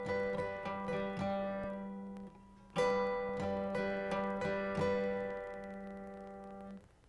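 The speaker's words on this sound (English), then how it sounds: "plucking 2 strings, again with a thumb and a middle finger, and then lightly strumming with the tip of your index finger" Acoustic guitar, two strings plucked together by thumb and middle finger, then a light fingertip strum, repeating in a steady two-beat pattern, close and soft.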